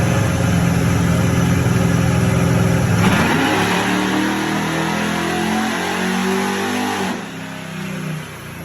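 A car engine being tuned while strapped down revs hard and steady, then the pitch drops and climbs again as it shifts, loud and close, with the roar easing near the end.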